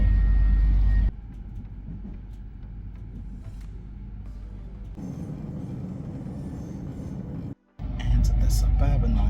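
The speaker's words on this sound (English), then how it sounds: "I'm on a double-decker train" Interior of a moving double-decker train: a steady low rumble and rolling hum that drops and shifts as the carriage runs, with a brief near-silent gap before the noise rises again.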